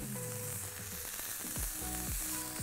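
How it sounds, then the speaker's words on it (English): Steaks sizzle loudly and steadily in a hot pan, a dense close crackle of frying fat with faint scrapes and knocks of handling underneath, and no talking. "straight away, you can hear that sizzle, and that's exactly what you want"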